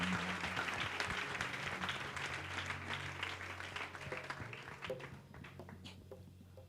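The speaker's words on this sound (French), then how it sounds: "Acclame pour le Saint-Esprit." Church congregation applauding for the Holy Spirit during a December fasting and prayer week in Togo, a dense, sustained crowd clapping that stays steady, then gradually thins out, with organ or keyboard tones underneath.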